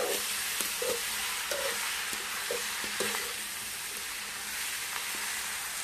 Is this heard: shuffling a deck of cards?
no